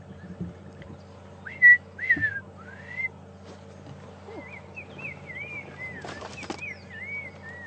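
Several clear rising, looping bird whistles, identified as a chegra, ring out during a morning safari drive at Djuma Game Reserve, spaced across the clip over a low steady hum, with a brief flutter near the end.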